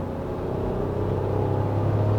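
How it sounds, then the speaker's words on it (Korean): A Honda Pilot's engine holds a constant, loud rumble that swells a little as the throttle goes down hard, and nobody speaks over it. "이 상태에서 가속 페달을 깊게 밟았을 때 느낌은"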